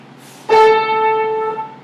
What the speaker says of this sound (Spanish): 440 vibraciones producen el sonido que nosotros llamamos la 4